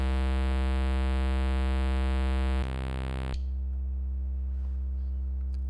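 Roland System 100 modular synthesizer oscillator tuned to C2 at the 8-foot setting: a steady, loud buzzing tone rich in harmonics that shifts timbre briefly near the end, then cuts off to near silence.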